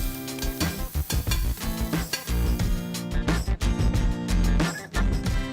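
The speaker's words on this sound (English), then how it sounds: "Pre-cut bacon pieces going in the pan now" Pre-cut bacon pieces sizzle steadily in a hot pan, with a dense, continuous crackle broken by bursts of stirring and clattering. No one speaks.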